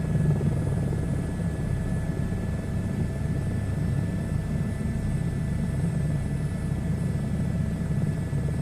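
Helicopter rotor and engine drone from a VR flight simulator while landing near London, a steady loud whir with a low pulsing throb held without a break and no talk.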